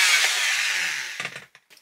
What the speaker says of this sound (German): der Rest mache ich jetzt einfach mit dem Multitool